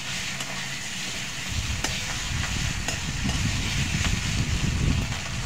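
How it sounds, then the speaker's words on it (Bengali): Onions with chilli, ginger and garlic frying in oil while being stirred, a dense sizzle under low scraping and rumbling stirring noises, with occasional sharp clicks of the utensil against the pan. "এখন আদা রসুনগুলো ভালোভাবে পেঁয়াজের সাথে মিশিয়ে নিব।"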